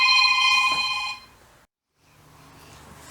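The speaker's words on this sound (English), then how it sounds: "Oh, I'm getting a phone call." A telephone rings with a bright, loud electronic trill that cuts off partway, leaving a short silence and then faint room noise.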